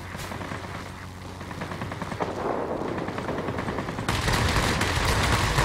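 Aircraft guns in World of Warplanes fire in long, rapid bursts that run nearly continuously. The firing is loud and close, and it grows denser and harsher toward the end.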